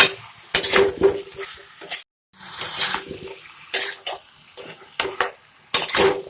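A spoon stirs mutton curry seasoned with salt and turmeric in a pot, Assamese style, giving repeated scraping and clinking bursts in short irregular strokes with brief pauses between them, close and fairly loud.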